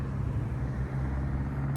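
A classic car rolls by on a street in Cuba, its low engine drone steady and close throughout, with no one speaking.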